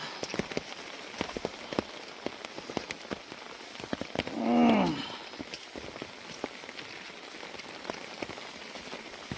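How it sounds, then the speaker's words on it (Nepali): Steady rain patters on a slippery hillside path, with dense irregular drips and taps throughout; a brief voice rises in the middle. "झरीमा हिँडिरहेको छौँ।"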